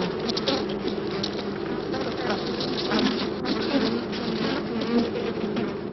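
Worker bees crowd a colony with a dense, continuous buzz that stays close and loud throughout, without pauses.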